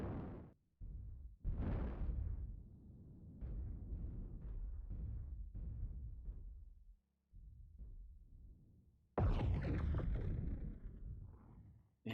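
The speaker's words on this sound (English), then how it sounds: "And just listen to those plasma cannons." Plasma cannons fire in a video game match, heavy booming blasts with deep rumbling tails, one loud burst after another with short gaps between them.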